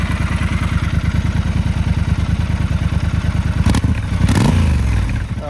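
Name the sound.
Triumph Scrambler 1200 XE motorcycle exhaust revving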